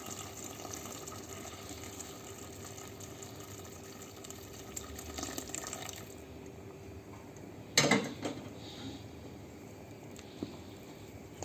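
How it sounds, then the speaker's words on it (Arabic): Water runs steadily into a cooking pot, a soft continuous pour with a brief louder splash or clatter partway through. "ندير لها شويه د الماء طايب"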